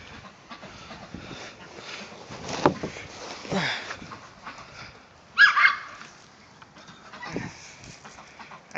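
Farm dogs bark in scattered, moderately distant bursts in an open outdoor setting, with a louder cluster of barks midway and softer barks trailing off, while fowl cluck faintly in the background.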